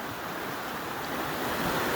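Brook in Maine woods near Dunn's Falls, flowing as a steady broadband rush of water that fills the scene evenly and grows slightly louder, with no voices.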